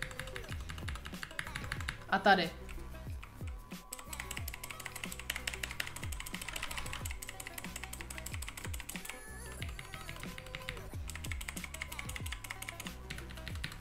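Keys clicking on a Razer computer keyboard, tapped in a steady, even series of crisp, close keystrokes over a quiet background, with someone talking over the clicks and one brief louder knock near the start.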